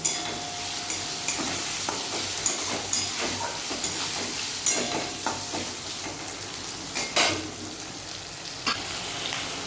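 Onion and tomato with ginger and garlic frying in a pan for a Bengali-style chicken stew, giving a steady close sizzle with repeated scraping stirs throughout.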